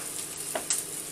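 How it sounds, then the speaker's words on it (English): Chicken and Spam fry in a pan with a soft, steady sizzle and a couple of brief clinks and stirring scrapes, quiet and close with no talking. "I'm going to put that in the fryer here, in the frying pan with the chicken."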